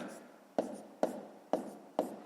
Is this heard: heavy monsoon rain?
no